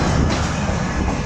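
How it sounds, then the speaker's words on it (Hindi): The Green Line Express rolls through Gujar Khan railway station in Pakistan, a dense, steady roar of wheels and carriages that fills the whole stretch at close range. "इसके बाद 6 डाउन ग्रीन लाइन एक्सप्रेस ने गुजर खान रेलवे स्टेशन को 4:47 पर क्रॉस किया।"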